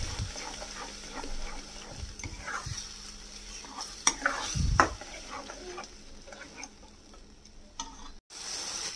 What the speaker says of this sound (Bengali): মশলাটা একদম কষানো অবধি কিন্তু এটাকে নাড়তে হবে।